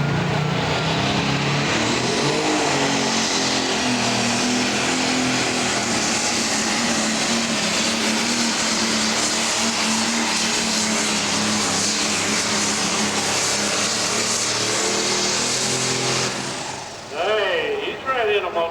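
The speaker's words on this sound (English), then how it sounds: "That's a good run for that Larry Kline's tractor." A pro stock pulling tractor, a CB85GS, roars at full power through a pull run at Mansfield, Ohio, its loud, steady engine drone holding for about sixteen seconds before cutting off. Crowd noise follows at the end.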